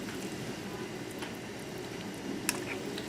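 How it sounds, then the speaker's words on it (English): Pulled pork cooking liquid in a crockpot coming to a boil, a faint, steady bubbling with one small pop near the end. "So when this comes to a boil"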